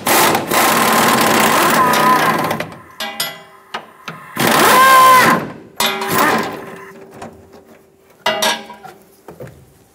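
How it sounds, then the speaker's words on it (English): Power tool spinning a 21 mm socket to remove a nut from a leaf spring shackle bolt on a 2014-2018 Chevrolet Silverado 1500, several loud whirring bursts separated by gaps with clanks and rattles of metal. "we'll use a 21 millimeter socket to remove the nut"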